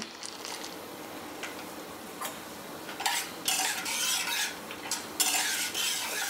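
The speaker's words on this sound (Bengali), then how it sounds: "বড়ি ভাজার তেলেই ভেজে নিচ্ছি কয়েকটা চীনাবাদাম।" Peanuts fry in hot oil in a pan, a low steady sizzle under intermittent metallic scraping and stirring clinks that grow louder and busier toward the end, close up with no voices.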